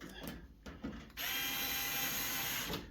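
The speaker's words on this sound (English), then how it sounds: "I'm using this little USB screwdriver" A small USB-powered electric screwdriver drives screws, its steady high motor whine starting abruptly after a few light knocks and running continuously, close and fairly loud.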